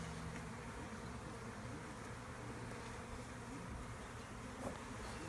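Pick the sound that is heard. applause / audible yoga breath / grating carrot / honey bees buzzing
honey bees buzzing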